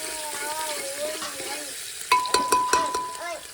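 Onion tempering sizzles and fries in a hot pan for a Gujarati cluster bean dish while a utensil stirs and scrapes, with a few sharp metallic clinks near the end.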